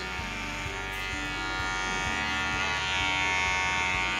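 Electric hair clippers buzz steadily while cutting a fade with a number 2 guard at a barbershop, a continuous close motor hum with faint shifts as the blade moves through hair, alone without talk.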